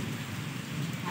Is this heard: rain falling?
yes